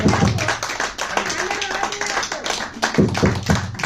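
Audience clapping at a Bansari Group stage programme, a steady wash of hand claps lasting throughout with a few louder bursts near the end, mixed with background music and faint voices.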